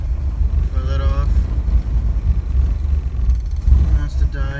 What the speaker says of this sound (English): It's running on 3 cylinders right now.